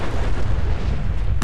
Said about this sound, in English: The explosion's so cool. Big old quantum nuke.